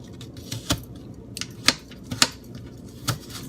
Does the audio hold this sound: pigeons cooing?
no